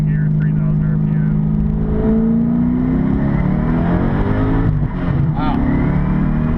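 A 2010 Corvette Grand Sport twin turbo pulls hard in second gear around 3,000 RPM, its loud engine drone steady and rising under continuous in-car talk.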